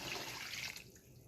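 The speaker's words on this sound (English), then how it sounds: "I'm going to pour in my water" Water poured into a cooking pot while making Nigerian goat meat pepper soup, a brief splashing pour that cuts off partway through, soft and close.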